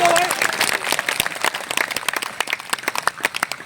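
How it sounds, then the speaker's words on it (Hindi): A crowd at a village panchayat gathering claps at a speaker's urging, starting in a dense burst and loosening into uneven, distinct hand claps, with a voice briefly heard at the start. "एक बार अपने लिए ताली बजा दो"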